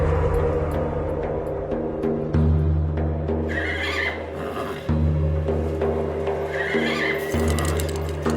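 A horse neighs and whinnies in a stable, with a few cries over a steady low hum and rumble that stays loud throughout.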